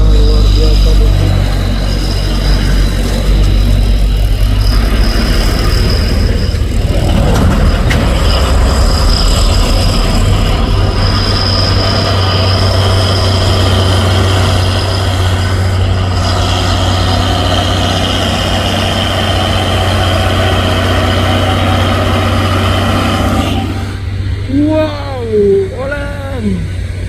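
A heavy Hino truck labours on the Bukit Kodok hill road, its low engine droning loudly and continuously. A loud tonal horn-like sound comes in near the end.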